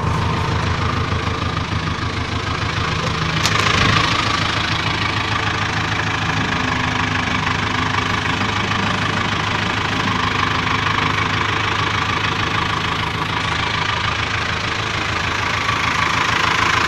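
JCB backhoe loader diesel engine running steadily at close range with a constant knocking throb, one brief louder clank partway through, and no talk over it.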